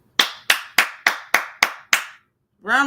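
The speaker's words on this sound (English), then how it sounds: "round of applause" Seven sharp, evenly spaced hand claps ring out close and loud, a lone person clapping steadily, followed by a short vocal sound at the end.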